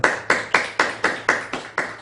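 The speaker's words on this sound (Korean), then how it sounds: "조용히 마음으로 기뻐하며 환영의 박수" A church congregation claps in welcome during a worship service, in a quick, even rhythm, about nine sharp claps in two seconds, with no talking.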